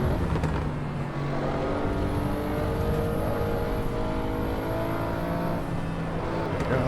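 Audi RS6 at full throttle on the Nordschleife, a loud, steady engine roar heard from inside the car, holding a sustained drone with rising tones and no break throughout.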